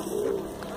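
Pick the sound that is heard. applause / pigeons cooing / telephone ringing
pigeons cooing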